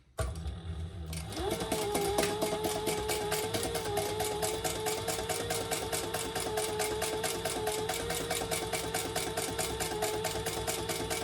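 A sewing machine runs at steady speed, stitching an eighth-of-an-inch seam to close off the top of an Antonella garment. After a short quiet start it settles into a continuous, rapid rhythmic whir that stays close and even for about ten seconds.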